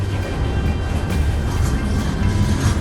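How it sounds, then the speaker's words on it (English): A very long train rolls past a rail trail near Jacksonville with a loud, continuous low rumble and faint wheel noise at close range. "I found that I and two other cyclists were held up by a train."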